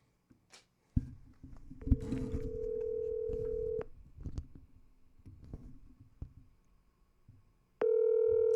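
A phone call is placed: a few faint clicks, a sustained tone, then a series of quieter taps and a loud ring tone cutting in at the end, with no voices.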